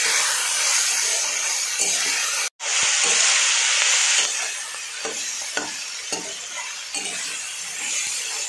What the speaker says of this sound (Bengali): কচুরলতিগুলো ভাজা হয়ে গেছে